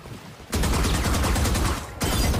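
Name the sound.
gunfire shooting at Harbor's wall in Valorant video game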